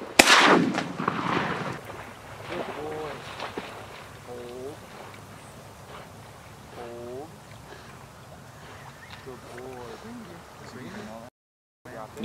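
Shotgun blasts during a mallard duck hunt, one loud close shot at the start followed by a quieter one, with ducks quacking and hunters talking outdoors afterward.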